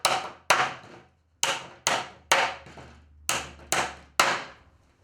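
A hammer drives nails through pallet wood while a second hammer braces the far side. Seven sharp, ringing strikes land roughly every half to one second, each decaying quickly, close and loud with no talking.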